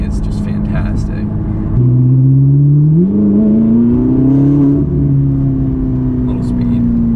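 A light rear-wheel-drive supercar, named as a Ferrari, pulls away on the road with a rising engine note that climbs in pitch, then settles into a steady drone; loud and close, from inside or near the car.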